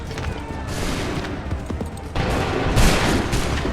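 Musket volleys fired on command in Assassin's Creed III, crackling bursts of many guns in quick succession, with a second louder volley following after a short gap over battlefield noise.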